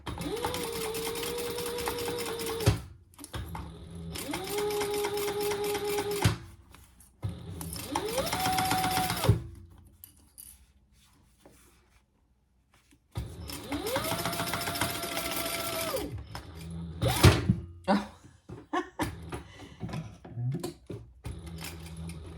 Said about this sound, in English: I'm gonna sew that together at a 1/4 inch seam allowance